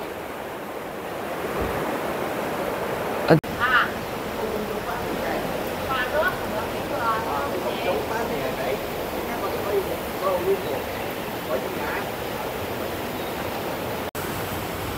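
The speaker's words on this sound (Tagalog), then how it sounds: "Ang lakas ng agos ng tubig." Strong rushing water after rain gives a steady broadband roar that persists throughout, with faint voices and brief sounds scattered over it.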